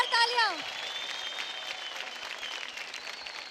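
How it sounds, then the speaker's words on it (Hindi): A large studio audience at a televised dance competition bursts into broad applause and cheering for the dancer Puneet, the clapping a dense even wash after a brief sweep of music at the start. "पुनीत के लिए जोरदार तालियां।"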